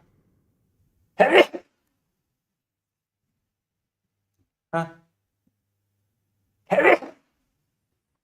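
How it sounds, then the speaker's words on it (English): Two sharp sneezes, well apart, the first near the start and the second near the end, each a short loud burst in an otherwise quiet room, with a brief spoken word between them. "I sneezed twice, Dr. Jones."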